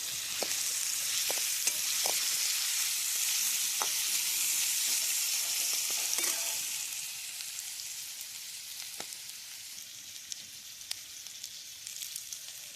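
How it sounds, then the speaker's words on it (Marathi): Cut potatoes with turmeric are stir-fried in hot oil, giving a bright, steady sizzle that softens partway through. Sharp scrapes and clicks of stirring come at irregular moments, and no one talks. "आता हळद टाकून आपण बटाटे चांगले आता परतून घेणार आहे"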